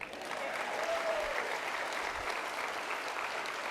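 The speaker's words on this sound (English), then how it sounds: "You can clap now." Audience applause at a college athletic hall of honor ceremony, steady dense clapping filling the hall for the full stretch with a faint whoop partway through, no speech over it.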